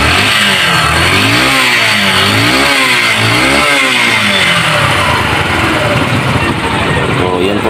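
A Yamaha XTZ 125 motorcycle engine under troubleshooting on a temporary wire connection starts and revs loudly up and down several times, then settles into a rough, close-up idle.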